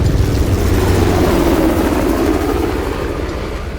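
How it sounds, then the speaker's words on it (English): A helicopter in the video game Uncharted: The Lost Legacy flies overhead, a loud, steady rotor thump and engine drone that fades slightly toward the end. "How the hell did Asaf get that helicopter?"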